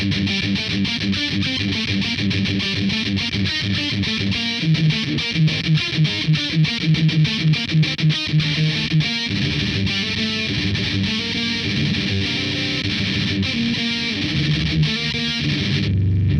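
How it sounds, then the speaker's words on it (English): Heavily distorted electric guitar with a regular lower-output pickup, through an overdrive-style boost, chugging chunky palm-muted riffs, loud and continuous with a thick overdriven tone and steady rhythmic picking. "essentially it's sort of acting like an overdrive pedal"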